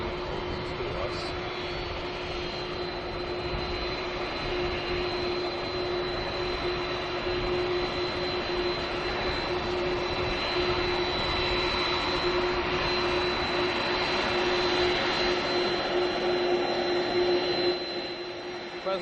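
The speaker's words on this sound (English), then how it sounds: "The president just touched down. Now taxiing to us." The presidential jet taxis at an Ohio airport after landing, a loud, steady jet-engine roar with a sustained high whine that holds throughout and fades slightly at the end.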